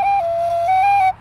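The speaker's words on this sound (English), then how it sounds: "my Burke is a whistle that sounds better if you push it closer to the edge" A Burke low D tin whistle plays a sustained low note that wobbles slightly and lifts briefly in pitch, clear and close, solo with no voices.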